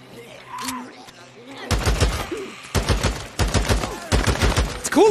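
Bursts of assault rifle fire in the video game Days Gone, several loud rapid volleys separated by short gaps, with a voice talking briefly before the shooting begins.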